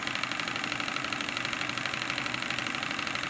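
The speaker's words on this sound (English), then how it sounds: "This is my Stuart 10H engine." A Stuart 10H live steam engine runs steadily with a continuous, even mechanical chuffing and hiss, close and constant throughout with no voices.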